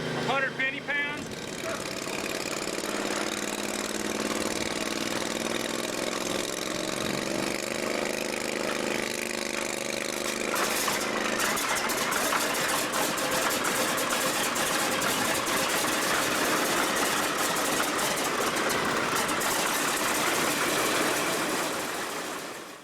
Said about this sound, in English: Of course, when the engine starts up